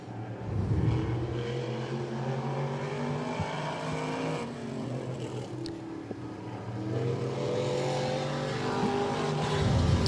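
The number 45 race car of James Whitcomb laps Hudson Speedway, its engine droning and rising in pitch as it accelerates, fading and swelling as it circles the track, heard from a distance and loud throughout.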